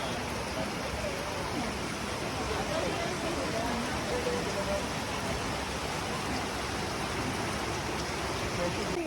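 Steady rain falls on an outdoor road in the mountains of Sagada near Baguio, a dense even hiss that fills the whole stretch without pause, close and constant.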